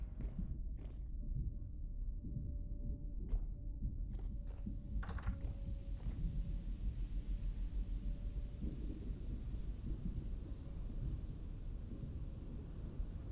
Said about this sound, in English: I don't like the sound of an impending temporal storm